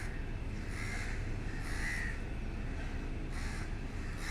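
A crow caws near a dog, about four harsh calls spaced unevenly over a few seconds, moderately close against a low, steady background hum.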